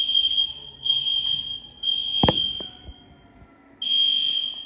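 Piercing electronic fire alarm tones repeat in pulses, with a sharp clatter partway through and a brief pause before the alarm resumes.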